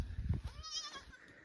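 A mother goat with her kid at a village near the India–Pakistan border gives a faint, wavering bleat amid close low rustling and handling noise.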